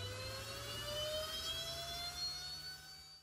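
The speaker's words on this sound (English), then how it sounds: "I will try the LEDs and the exhaust fan, and it seems everything is working fine." The exhaust fan of a Snapmaker Ray 40W fully enclosed laser engraver hums steadily with a whirring tone and a faint rising whine, close and even throughout.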